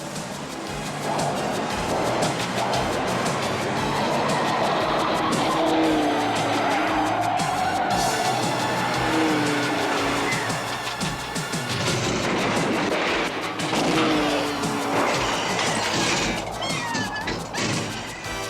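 Cartoon car chase with a pursuing car and skidding, squealing tires, loud and continuous throughout, with engine roar and screeches layered over a busy soundtrack.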